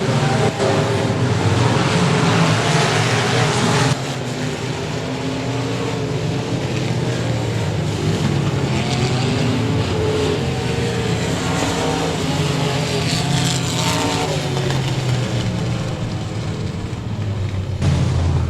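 Race cars howl around the dirt track at Boothill Speedway, a loud, continuous roar of engines with shifting pitch that swells and fades as the cars pass over nearly twenty seconds.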